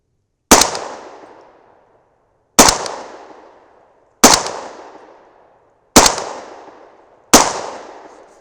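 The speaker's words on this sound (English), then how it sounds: "So next up are the 202 grain Supersonics, or what we hope are, or I'm sorry, Subsonics" A 300 BLK rifle firing 202-grain subsonic powder-coated bullets outdoors gives five loud, sharp reports at irregular intervals of about one to two seconds, each followed by a short decaying echo.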